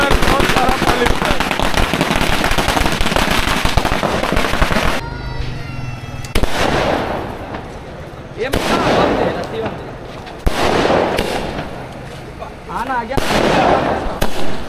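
Rope bomb firecrackers burst at a Muslim wedding walima in Mumbai, a dense, loud, rapid crackle of explosions with brief gaps between volleys and voices underneath.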